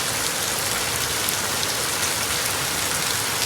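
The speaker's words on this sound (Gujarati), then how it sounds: "10-15 મિનિટથી વરસાદ ચાલુ છે આવી રીતે." Steady rain falling, an even, unbroken wash of drops hitting surfaces at moderate loudness, with no voices.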